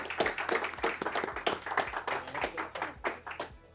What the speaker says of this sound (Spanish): Un fuerte aplauso al señor Germán Zárate.